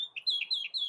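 A mockingbird in a backyard gives a short series of bright, repeated chirps, four or five quick notes in a steady rhythm, close and clear against a quiet background.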